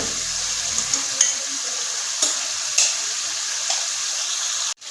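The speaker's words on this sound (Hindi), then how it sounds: "दस मिनट तक अच्छे से मैं इसकी भुनाई करूंगी।" Mutton paya being roasted in a pan gives off a steady, close sizzle with a few soft stirring knocks scattered through it, and no one speaks.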